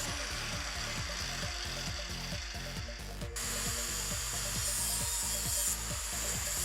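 An abrasive tool grinds steady and loud against the sharp edges of steel leaf springs being shaped into running blades, a constant rough rasp with a rhythmic pulsing underneath, close and continuous, no voices.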